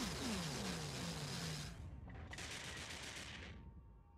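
Battleships exchange weapons fire in a space battle in Eve Online, a dense roaring barrage of rapid booms and crackling blasts that dips briefly, surges again, then cuts off; faint overall.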